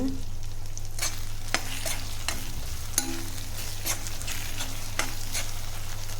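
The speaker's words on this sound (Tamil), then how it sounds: "நடுவில் நடுவில் ஓப்பன் பண்ணி கிளறி விட்டுட்டே இருங்க" Eggplant pieces fry in oil with a continuous sizzle, while a spoon repeatedly scrapes and stirs through the pan in sharp, regular strokes.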